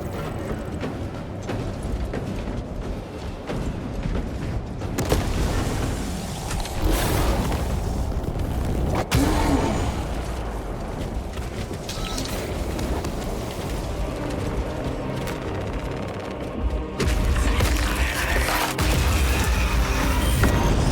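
An altar of corruption is destroyed in Warhammer 40K Space Marine 2, with heavy booms and grinding mechanical clanks over a constant rumbling battlefield roar, the bursts hitting loud at several points.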